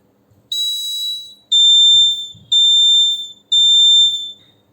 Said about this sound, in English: how to connect a buzzer to Arduino